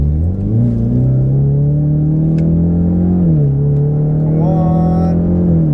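A 2018 Ford Mustang EcoBoost, fitted with six-piston Brembo brakes, accelerates hard on the road, its engine droning loud and close from inside the car, the pitch climbing, dipping at a gear change, then rising again.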